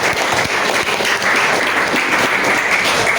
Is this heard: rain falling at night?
no